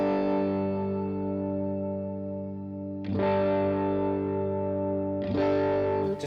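Electric guitar played through a Fractal Axe-Fx Matchless DC30 amp model with a chimey tone, three sustained strummed chords ringing out, each new strum cutting in sharply, heard alone with no talk.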